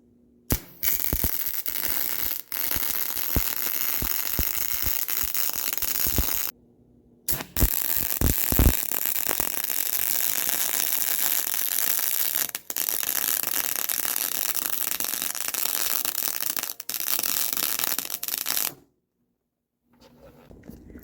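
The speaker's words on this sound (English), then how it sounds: "Now I just got to flip it over and weld the back sides there." Welding along the back sides of a bucket for a John Deere 27D mini excavator gives a steady, close crackling buzz in long runs, broken by short pauses and ending in silence.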